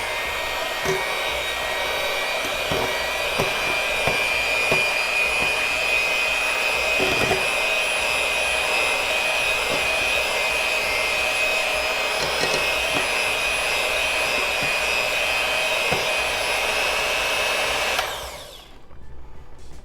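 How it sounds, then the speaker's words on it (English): Electric hand mixer blending a Thanksgiving dessert mixture, a steady loud high-pitched motor whine running continuously for about eighteen seconds with faint clatter, then switching off abruptly near the end. "we're going to take our mixer. I'm going to hope this turns on. It turns on."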